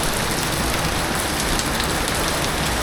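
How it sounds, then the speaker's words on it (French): Heavy rain pouring in the Cameron Highlands of Malaysia, a loud, dense and unbroken hiss of water striking surfaces close by, with no voices. "il pleut comme ça, là?"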